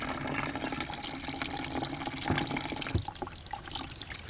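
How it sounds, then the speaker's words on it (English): Tap water runs steadily into a bucket as a paintbrush with a little soap is rinsed under it, a continuous close splashing with small knocks and drips from working the bristles. "I'm going to do it under a running tap and let the excess go down into a bucket."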